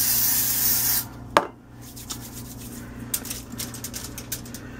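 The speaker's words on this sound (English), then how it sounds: "Let me spray my hands" Cooking spray sprays onto hands while making yeast rolls: a loud, sustained aerosol hiss that stops abruptly after a second, followed by a sharp click and faint rubbing sounds.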